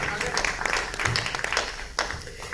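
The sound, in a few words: audience applause at a poetry gathering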